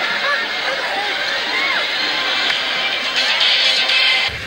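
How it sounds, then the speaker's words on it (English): A big outdoor crowd at the GBA fair during Sydney's Gay Mardi Gras on a hot afternoon, a steady hubbub of many voices and distant shouts with no break. "there's a big crowd out here in the heat of the afternoon for the GBA fair"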